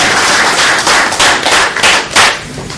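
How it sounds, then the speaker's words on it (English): Audience applause at a talk on hip-hop, a dense steady wash of clapping with a few sharper bursts, fairly loud and close, with no voices over it. "Let's give him a round of applause."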